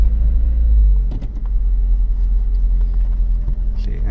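Chevy car engine idling after being started, a steady low rumble that swells briefly near the start and then holds at an even level, with faint clicks and knocks on top.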